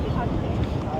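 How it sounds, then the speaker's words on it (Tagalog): Steady rumbling wind in northern Taiwan buffeting the microphone, a dense low roar with no break. "Kaya sobrang hangin."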